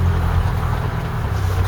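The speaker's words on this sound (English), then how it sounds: "Then hit reverse and back we go in reverse." A Mk3 Ford Cortina reversing, its engine a steady low rumble running close and continuous without a break.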